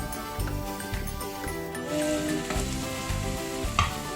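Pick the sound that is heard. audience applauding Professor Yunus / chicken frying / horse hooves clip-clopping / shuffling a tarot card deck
chicken frying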